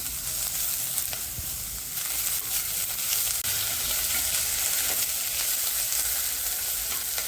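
Sliced onions frying in hot oil in a pan for a pea paneer kofta curry, a loud continuous sizzle with occasional stirring scrapes, close and steady throughout with no talking.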